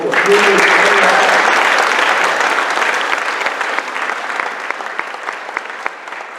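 Graduation audience for class 410 breaks into a big round of applause, loud and dense at first, then gradually thinning to scattered claps, with a voice briefly audible at the start.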